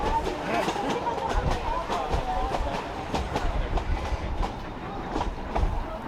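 Durango & Silverton narrow gauge train rolling along the Animas River, a continuous rumbling clatter of wheels and cars with rhythmic clicks, heard from aboard at steady loudness while a voice talks over it.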